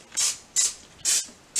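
Cooking oil sprays onto floured chicken wings for air frying in four short, quiet hissing bursts, each with a brief pause between.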